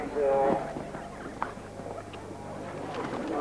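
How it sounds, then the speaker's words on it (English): Hooves of a very strong horse on a cross-country eventing course at the 1984 Badminton Horse Trials, a few faint thuds and clops lying under a broadcast commentator's talk. "Very, very strong horse this."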